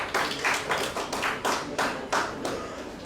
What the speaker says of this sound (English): I think he deserves a big round of applause from us for playing in this tournament